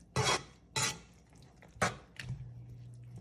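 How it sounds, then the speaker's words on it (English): A spoon being rinsed off in a kitchen after tasting a red lentil and potato dish: a few short clattering metal knocks and splashy bursts, then a faint hum, fairly quiet and close. "I'm gonna wash off my spoon here."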